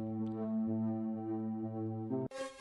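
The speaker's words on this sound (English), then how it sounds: "that's got the liquid mix, which is the compression, and the EQ and reverb on as well" A sustained singing voice processed with compression, EQ and reverb, with a compressed, smoothed tone and reverb tail, then a sudden switch to a brighter, harsher sound near the end.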